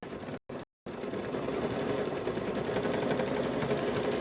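A quilting sewing machine stitching in rapid, even rhythm, close and fairly quiet, with a couple of brief pauses near the start before running continuously.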